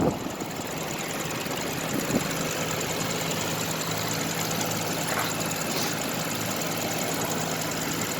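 A 2009 BMW 750Li Executive Edition engine idles close by with a steady, even hum and faint mechanical ticking, unbroken for about eight seconds with no voices.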